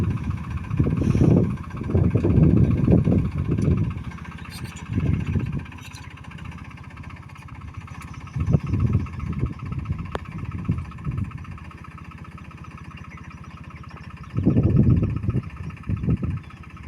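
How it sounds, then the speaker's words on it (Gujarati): A tractor passes along a groundnut field road, its engine rumbling in several loud, swelling bursts, pulling back between passes before surging again near the end. "જો કેવું સરસ ટ્રેક્ટર ચાલ્યું જાય છે."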